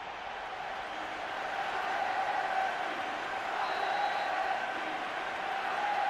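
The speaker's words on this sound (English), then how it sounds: "Plenty of intensity and passion among the crowd today for this first knockout round match in the tournament." A stadium crowd in the football video game PES 2013 keeps up a low, continuous roar before a knockout-round match, faint and steady in the background with no distinct cheers.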